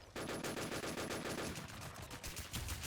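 Sustained automatic gunfire in a video game, a steady rapid stream of shots running for nearly three seconds, loud and dense with no talk over it.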